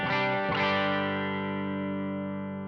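Electric guitar played through an Analogman King of Tone overdrive pedal, volume at halfway: two struck chords with thick, gritty overdrive, the second ringing out and sustaining as it slowly decays, alone and close.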